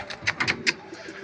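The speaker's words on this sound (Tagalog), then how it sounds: "Ito mga kabagwis, dumating yung ibon natin." A racing pigeon arriving from a sprint race coos in a few soft, close, pulsing notes over about a second, with faint handling noise around it.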